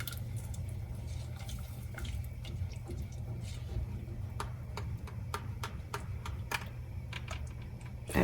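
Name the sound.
stirring thickening homemade cheese sauce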